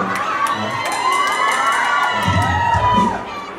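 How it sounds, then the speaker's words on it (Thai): Parents in the audience at a children's fashion show clap and scream loudly, with high shrill shrieks and cheers rising over steady applause and crowd noise throughout. "จะได้ยินเสียงตบมือแล้วเสียงกรี๊ดจากพ่อคุณแม่แล้วนะ"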